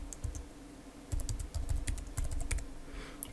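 Quick bursts of keystrokes on a computer keyboard as a password is typed, close and fairly quiet, in short irregular runs with brief pauses between them and no talking.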